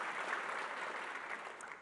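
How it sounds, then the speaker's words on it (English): An audience claps at a public address, a continuous, fairly distant wash of applause with no voices over it. "That's a good thing to clap for."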